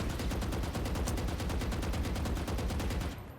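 Rapid gunfire from a first-person shooter video game, a steady stream of evenly spaced shots filling the whole stretch at constant loudness before easing off at the end, with no talking.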